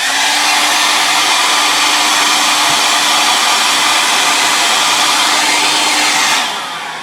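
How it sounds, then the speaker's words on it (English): A hair dryer used while restoring an arcade motorcycle racing game blows steadily with a loud, continuous whooshing hum close by, dropping in pitch and level near the end. "Now I'm going to take a hairdryer."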